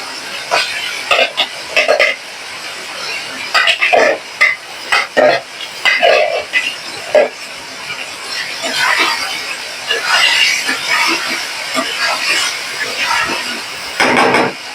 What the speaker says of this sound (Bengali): এখন মাছ দিয়ে কিছুক্ষণ কষা নেবো